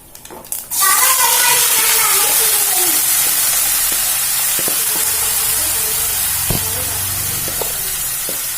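Finely chopped ridge gourd drops into hot spiced oil with a sudden loud burst, followed by a strong, steady sizzling hiss and a few sharp spatters and clinks.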